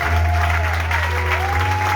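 A church congregation applauds at a harvest festival service, with steady, sustained clapping filling the space at close range. A low hum and faint murmuring run underneath.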